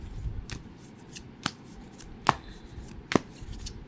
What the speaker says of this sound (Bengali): অনেকগুলো কার্ড পড়লো।